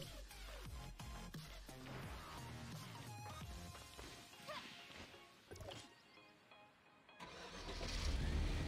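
Car engine in the Tower of Fantasy video game, revving and running loudly amid game noise, with clunks and impacts, swelling louder near the end.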